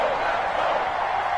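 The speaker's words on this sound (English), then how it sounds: "The crowd getting into it as we come up on a big 3rd down." Stadium crowd noise in the football video game Madden 20 ahead of a big third down: a steady, broad wash of roaring cheers at moderate loudness, continuous and without distinct claps or voices.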